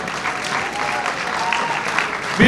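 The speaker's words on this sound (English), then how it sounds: "round of applause." A crowd gives a loud, warm round of applause for Philip Christopher at a Greek parade gathering, with dense continuous clapping and faint voices and cheers mixed underneath.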